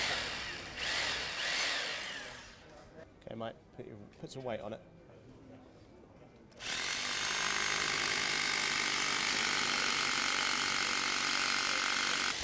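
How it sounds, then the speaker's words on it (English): Power drill boring holes to fit a wooden bench in place, first in short bursts between voices, then a loud, steady continuous whine to the end; people talk in the early part. "time to start drilling."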